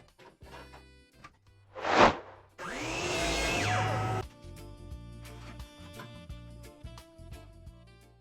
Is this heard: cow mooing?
no